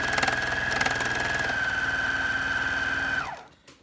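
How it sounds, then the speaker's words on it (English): A Bernina overlocker runs at speed while stitching along the top edge of fabric, giving a steady mechanical whirring chatter that holds for about three seconds, then winds down and stops. "I'm just overlocking the"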